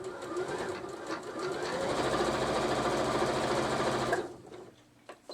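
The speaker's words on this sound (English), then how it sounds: "I'm going to sew on the line." A sewing machine stitches fabric along a marked line in one continuous run of rapid needle clatter, close and steady, stopping abruptly near the end.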